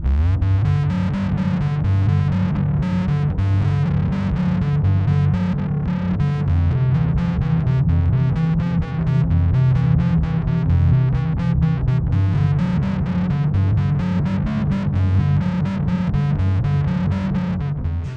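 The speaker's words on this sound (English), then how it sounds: "It was really rich on the distortion side where it almost had like a fuzz kind of character to it" An electric guitar plays a steady riff through a Walrus Audio Melee pedal's thick, fuzzy octave-down distortion with a deep, heavy low end, loud and continuous without pause.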